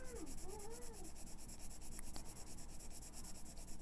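Colored pencil laying a light shading layer across paper while coloring turquoise stones, a soft continuous scratchy rubbing heard close and faint over a low electrical hum.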